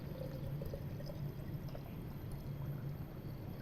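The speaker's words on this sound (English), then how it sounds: "I'm just gonna add the water, because I made a really strong tea" Water pours steadily into a container of strong tea being prepared for kombucha, a faint continuous splashing trickle close by with no talking.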